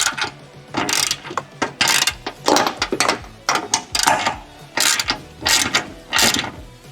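Ratchet wrench tightening bolts on the hinge mounting of a Mercedes Sprinter van's exterior door, heard as repeated bursts of rapid clicking, close and loud, with short pauses between strokes.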